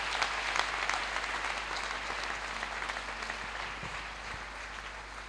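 A church congregation applauds in praise of Jesus Christ, steady dense clapping heard from a distance over a low hum, tapering slightly toward the end.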